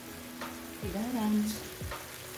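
Shrimp frying with kaffir lime leaves and salt, stirred in a pan, with a steady sizzle, a couple of scraping strokes and a faint tonal hum from nearby.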